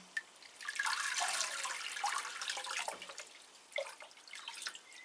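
Water mixed with Epsom salts is poured over potted orchids, a soft, continuous splashing and trickling with scattered drips, fairly quiet and close, with no voices.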